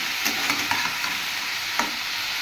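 Chichinga (snake gourd) chorchori with fish, garlic and tempering spices frying in a pan: a steady loud sizzle with occasional stirring clinks and scrapes, no talk.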